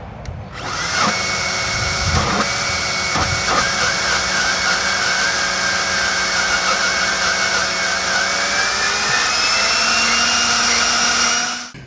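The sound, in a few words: EGO leaf blower running on cheap BLDC controller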